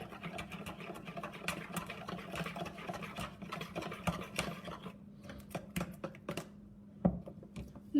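A mixture beaten by hand while cooking, with rapid irregular clicking and tapping strokes that stay steady and close, then thin out into scattered sharper knocks toward the end.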